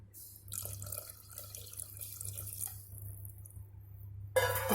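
Water trickles and splashes steadily into a pot of cooking sundakkai (turkey berry) kulambu curry for a few seconds, close by, ending with a brighter splash.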